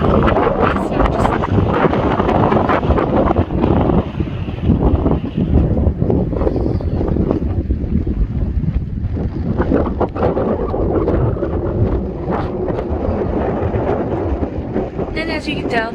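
Strong, steady wind buffeting the microphone at Dumont Dunes, a loud continuous roar with gusty low rumble throughout.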